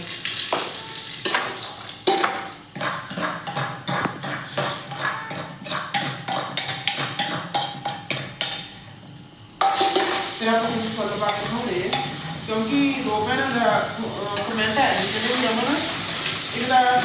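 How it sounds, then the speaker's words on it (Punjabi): Cumin frying in oil in a pressure cooker sizzles and spatters with rhythmic stirring taps, then turns to a louder, denser crackling hiss with spoken voices over the cooking. "ਜੀਰਾ ਤੇਲ ਪਾ ਰੱਖਿਆ ਸੀ ਕੁੱਕਰ 'ਚ ਫਰਾਈ ਹੋ ਗਿਆ"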